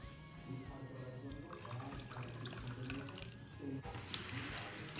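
Water runs steadily into a bowl with sugar and black salt for Pakistani dahi bara, a constant close splashing pour.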